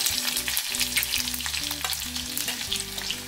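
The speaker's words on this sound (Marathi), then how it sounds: "आता जिरे घालते फोडणीला" Cumin crackling and sizzling in hot oil for tempering, a dense steady hiss with faint tonal hum underneath, fairly quiet and without speech.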